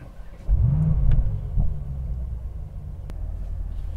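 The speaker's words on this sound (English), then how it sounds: "I will start the engine by pressing the downshift for the emotion start." A 2021 Mercedes-AMG E63 S engine starts half a second in with a loud, deep rev, then settles into a steady, rumbling idle close by.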